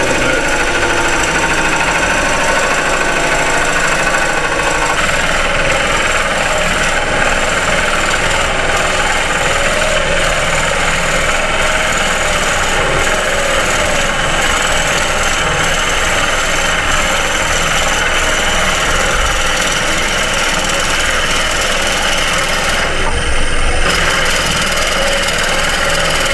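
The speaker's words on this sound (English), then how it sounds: "I'm using a Forstner bit to hollow out the inside a little bit." A wood lathe spins while a Forstner bit hollows the inside of a turned wooden box, a loud steady motor drone with rough grinding chatter and brief scraping surges, close and continuous with no talk.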